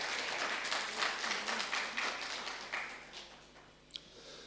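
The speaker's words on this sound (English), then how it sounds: "Let us have a round of applause for Mr." Graduation ceremony audience applauds in a hall, dense clapping at first that thins and fades over a few seconds, with a single sharp knock near the end.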